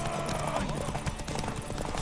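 A horse's hooves clip-clop at a gallop in The Witcher 3 video game, a steady rapid beat under a dense bed of game ambience.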